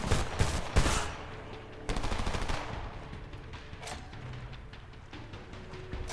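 Drum-magazine rifle gunfire in the video game Homefront, loud rapid automatic bursts up front with a longer sustained burst after, then fading shots and rumbling battle noise, with no talk.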